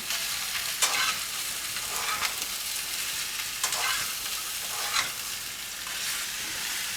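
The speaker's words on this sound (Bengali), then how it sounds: "নুন দিয়ে আমি আবারও এটা 1 মিনিট মতো নাড়তে থাকবো।" Spices and salt being stirred in a hot frying pan for Shukto, a soft continuous sizzle with periodic scraping strokes of the spoon, close and fairly quiet, no talking.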